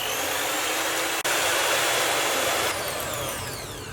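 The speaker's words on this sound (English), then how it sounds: "just with a hand beater with a whisk attachment preferably, we're going to beat this for around 5 minutes" An electric hand beater fitted with a whisk attachment whirs steadily through a mousse mixture, a loud continuous motor hum that cuts out for an instant near the start, then runs on and eases slightly toward the end.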